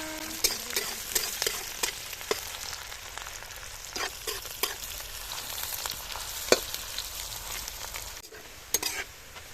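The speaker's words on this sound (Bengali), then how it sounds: "তো পেঁয়াজটা বেশ লাল লাল করে ভাজা হয়ে গেছে।" Sliced onions fry in hot oil in a pan for a restaurant-style chicken curry, a soft continuous sizzle broken by scattered scraping clicks as a spoon stirs them. No one speaks over it.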